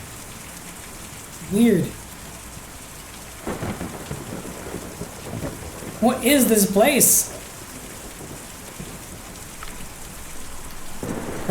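Steady rain with rumbling thunder in the video game Kentucky Route Zero, a constant wash broken by louder thunder swells, with someone speaking briefly over it.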